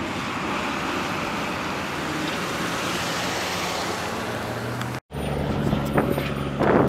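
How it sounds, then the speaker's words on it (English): A four-wheel drive pickup truck rushes past on the road at Hell's Crossing, a loud broad whoosh swelling and fading with wind noise, then an abrupt cut to rumbling roadside ambience. "big old macho four-wheel drive pickup truck, no balls to stop it"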